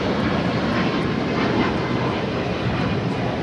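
A Boeing 737 MAX 8 takes off at Los Angeles International Airport, a loud, continuous broadband jet roar filling the whole span without a break.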